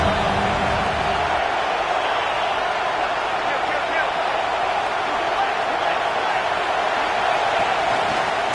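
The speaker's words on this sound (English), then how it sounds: "Big third down as the crowd gets behind this defense" A football stadium crowd roars steadily behind the defense before a big third down, a dense, loud wall of cheering noise that holds unbroken throughout.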